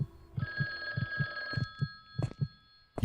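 A racing heartbeat in the video game The Guest thumps in a fast, even rhythm of about a dozen low beats, joined partway through by a steady electronic ringing tone.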